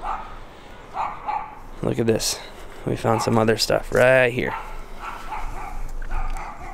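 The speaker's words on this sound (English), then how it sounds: "Dogs start barking." Dogs barking in a backyard, several loud close barks in quick bursts in the middle, with people talking around them.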